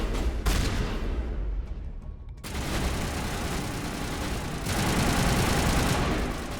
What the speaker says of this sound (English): God damn, those turrets do a ton of damage.